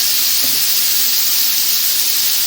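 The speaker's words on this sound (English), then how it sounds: "that started to bubble" Spaghetti bolognese sauce with partly frozen mince heats in a pan, giving a loud, steady sizzling hiss that runs unbroken throughout.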